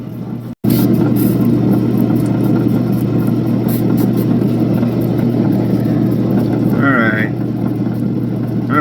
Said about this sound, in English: Alright, polishing wheel.